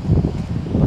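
Seaside wind on an Egyptian beach, a continuous low rumbling buffet of gusts against the microphone, loud and close, with no voices.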